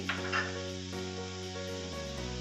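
Green chillies with a little turmeric frying in a pan for a cucumber and dried fish curry, a steady sizzle running throughout under a constant background hum, close and fairly even in level.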